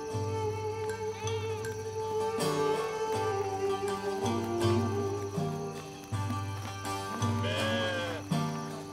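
Cartoon sheep bleating in short wavering calls over a steady musical backing, with a few bleats spread across the clip and no clear talk.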